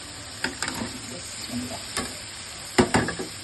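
Fish pieces in frying spice masala in a pan, with a low sizzle broken by several close scraping stirs and clatters of a spatula against the pan.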